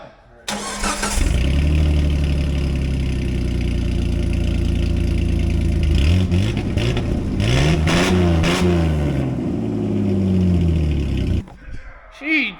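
A 1984 Nissan 300ZX Z31 engine cranks and catches, idles roughly, then revs up and down several times before shutting off, loud and close throughout.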